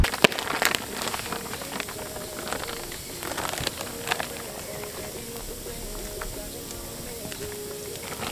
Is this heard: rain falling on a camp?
yes